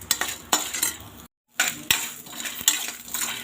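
Lentils, chillies, garlic, coriander seeds, cumin, pepper and salt dry roast in a pan for bitter gourd podi. A utensil repeatedly scrapes and clatters against the metal in loud, close strokes, with a brief silent break midway.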